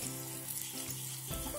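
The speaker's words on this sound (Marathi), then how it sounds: "हे वाटण मस्त आपण परतवून घ्यायचंय" Masala paste frying in a clay pot for a traditional Vadval-style yellow chicken, giving a steady close sizzle with faint stirring throughout, no talk.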